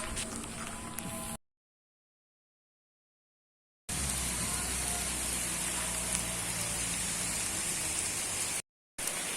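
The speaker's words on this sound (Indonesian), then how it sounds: "Oke, bertahan dari hujan." Rain falls steadily at the Batujai reservoir in Lombok, a continuous hiss of drops on surfaces, broken by two stretches of complete silence.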